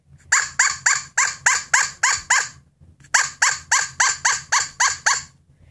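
Primos Squirrel Buster call blown to imitate squirrel barking: two bursts of rapid, harsh chattering barks, about seven or eight per burst, loud and close with a short pause between the bursts.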